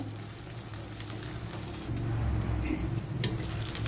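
Brinjal pieces for an Andhra-style stuffed eggplant biryani frying in a pan after being turned, a steady close sizzle and crackle that grows louder partway through, with no talking.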